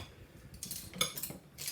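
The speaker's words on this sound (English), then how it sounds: "Just give it a mix." Batter being mixed in a bowl with a spoon, several quick clinks and scrapes of the spoon against the bowl in an uneven rhythm, close and fairly quiet, with no voices.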